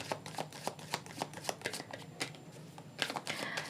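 Tarot cards shuffled close up in a quiet room: a steady run of crisp riffles and soft slaps, evenly paced, with no voices.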